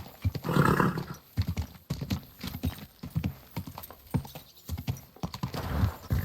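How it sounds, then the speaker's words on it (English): Horse hooves clip-clop at a walking pace in the medieval game Kingdom Come Deliverance 2, giving a close, regular run of knocks with a brief whinny near the start and no talk over them. "Easy, good horse."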